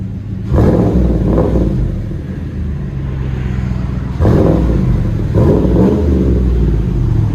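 A 2017 GMC Sierra 5.3L V8 with a Flowmaster Flow FX muffler revs hard twice, its loud, deep exhaust rumble swelling with each blip and settling back to a throaty idle between them.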